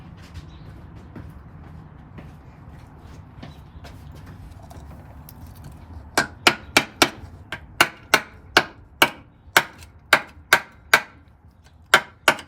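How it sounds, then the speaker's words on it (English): A screwdriver pecks on the rusty strut tower metal of a Fox body Mustang convertible, a series of about fifteen sharp metallic taps at a quick, uneven rhythm after several seconds of quiet room noise, close and distinct. "I'm going to go over here and peck on this with a screwdriver and show you what I got."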